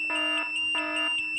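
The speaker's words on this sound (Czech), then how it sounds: "Alarm." A phone alarm sounds in repeated bursts, a bright electronic tone pulsing on and off with brief gaps, loud and close.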